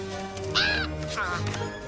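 Crow cawing in the Addams Family Reunion film, two loud, close harsh caws about half a second apart over a low background hum.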